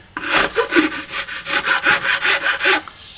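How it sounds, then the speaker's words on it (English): A power sander or grinder works over a fiberglass pod mold in repeated close strokes, a rhythmic rasping whir pulsing about a dozen times in a few seconds, alone without talk. "when you're grinding and sanding on this thing, you got to make sure you stay away from the plug"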